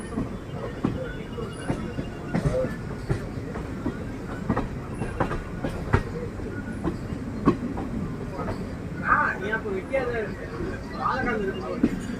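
A Rameswaram passenger train rolls along the railway line with a steady rumble and irregular clickety-clack wheel knocks, close and continuous, while a voice talks over it and faint babble sits underneath.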